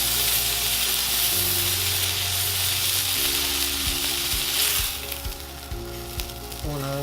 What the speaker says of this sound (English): I'm going to take the steak and I'm just going to plop it on its side, so we can render that fat out